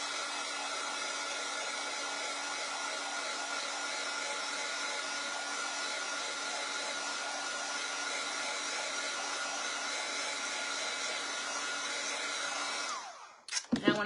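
A hair dryer blows on a freshly washed chalk-painted piece, a steady loud whooshing drone that holds unchanged for about thirteen seconds, then cuts off with a few handling knocks at the end.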